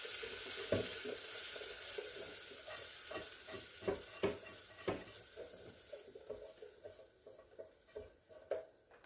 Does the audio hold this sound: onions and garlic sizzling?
yes